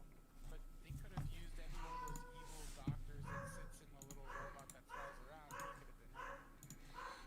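A dog barks and yips repeatedly in bursts indoors, the sounds fairly close and mixed with voices talking over them.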